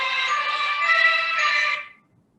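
A phone ringtone plays a bright, steady electronic melody for under two seconds, then cuts off into quiet.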